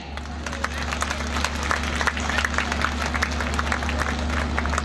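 Crowd applause at a public event in Patan for the Chief Minister, a steady wash of many hands clapping held throughout at moderate level, with a constant electrical hum beneath.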